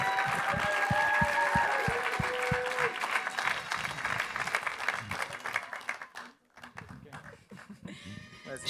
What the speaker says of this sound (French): L'applaudir, Marine.